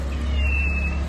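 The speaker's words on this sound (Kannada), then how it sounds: "ಬೆಕ್ಕಿನ ಮರಿ ನಮ್ಮದ" A kitten gives a single short, thin meow close by over a low steady background hum.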